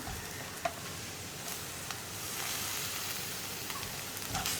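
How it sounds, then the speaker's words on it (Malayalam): Curry leaves and spice powders fry in a pan for a Kerala egg curry, making a quiet, even sizzle with a few small pops and faint stirring, no talking. "ഇതിലേക്ക് നമുക്ക് കുറച്ച് കറിവേപ്പിലയും കൂടി ചേർക്കാം."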